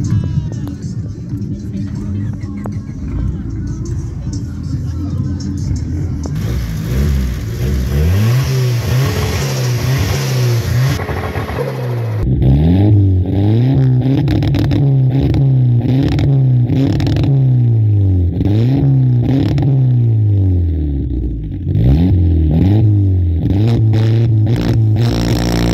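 A Volkswagen Saveiro pickup engine revs hard at a car meet, loud repeated rising and falling rev sweeps with crackly exhaust pops, close and dominant throughout.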